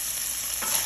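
Sliced garlic sizzles steadily in a hot pan with oil, a constant bright frying hiss, close and fairly loud, with a slight stir near the end.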